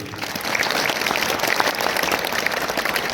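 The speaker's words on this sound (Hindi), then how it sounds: "एक बार उसके लिए जोरदार तालियां बजाइए" An audience at a student event for Bhaskar Classes in Barmer applauds loudly and steadily, a dense wash of clapping that holds at the same level throughout.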